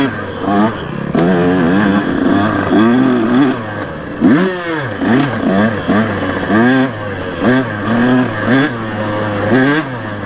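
A KTM 150 two-stroke dirt bike engine revs and bogs while riding a wooded trail, pitch rising and falling in repeated surges, close and loud, with a rider talking over it.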